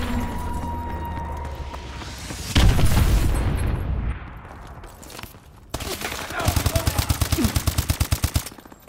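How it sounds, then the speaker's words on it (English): Missile strikes in Call of Duty: Advanced Warfare, in team deathmatch: heavy booming explosions and gunfire, ending in a rapid, evenly spaced burst of loud shots. "Enemy missile strikes."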